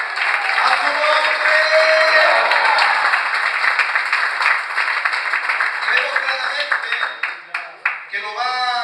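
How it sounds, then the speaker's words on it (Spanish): A church congregation at a pastors' conference breaks into loud, sustained applause that fills the room, then thins into scattered separate claps toward the end, with no talk over it. "Den un aplauso a Dios, de alabanza a su nombre."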